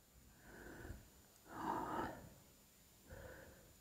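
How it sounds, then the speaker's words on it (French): Heavy breathing close by, three rasping, wheezy breaths with short gaps between them, fairly faint and with no talking. "Vous devez entendre ma respiration haletante."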